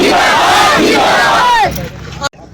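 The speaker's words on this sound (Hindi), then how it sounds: "एक एक करके तालियां तालियां तालियां अश्विनी सहाय जिंदाबाद" A crowd at a political rally chants slogans in a loud, rhythmic roar that cuts off abruptly near the end.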